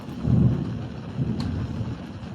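A close lightning strike during a storm produces a deep, rolling rumble of thunder that swells and lingers under steady rain for a couple of seconds, with no voices.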